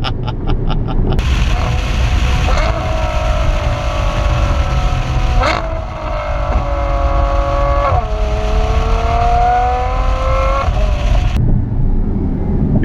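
A 2014 Ferrari F12 Berlinetta engine roars and climbs through the revs as it accelerates hard, pitch rising between gear shifts, loud and close.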